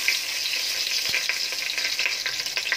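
Bay leaves sizzle in hot oil for Bangladeshi beef bhuna, a steady close frying hiss with light crackles and a brief stir knock.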